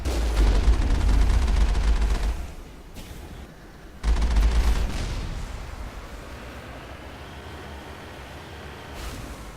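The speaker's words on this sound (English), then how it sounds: "there's a stupid cannon" Heavy cannon blasts in the Mass Effect game: two loud booming shots about two seconds apart, each trailing into a fading rumble, with no talk.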